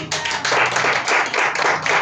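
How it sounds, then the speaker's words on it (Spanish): A church congregation gives warm applause to welcome a visitor at a Sunday service, with dense, steady clapping from many hands that carries loudly through the whole stretch with no voices over it. "Le damos un caluroso aplauso."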